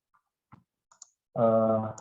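A few sparse, faint keyboard clicks from someone typing during a tutoring session, spaced out irregularly, followed by a louder sustained voiced sound.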